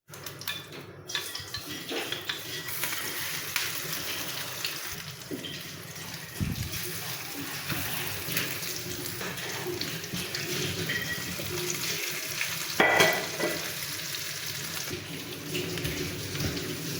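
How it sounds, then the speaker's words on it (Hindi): Shami kebabs, shaped square, frying in a pan over a low gas flame alongside two eggs, give a steady broadband sizzle that runs the whole time, fairly faint and continuous with a few brief clatters. "हो रहे हैं बेहतरीन से कबाब फ्राई हमारे।"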